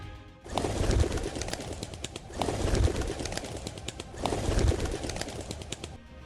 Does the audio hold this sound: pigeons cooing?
yes